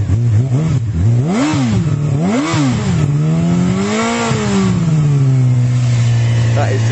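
Honda CB600F or Yamaha R6 sports motorcycle engine revved at standstill, close and loud, with two sharp throttle blips rising and falling, then a longer swell that settles back to a steady idle.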